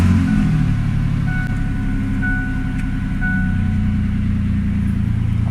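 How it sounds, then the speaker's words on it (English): A car engine runs at a steady idle after starting, a loud, close low rumble that holds throughout with only slight variation, heard without talk. "Turn on the ignition and start the car."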